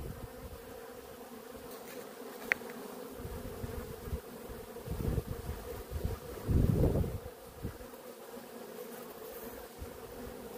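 Dense, steady buzzing of honeybees robbing and fighting at a hive entrance, with guard bees pushing out intruders; close, continuous droning with brief louder swells as individual bees fly past.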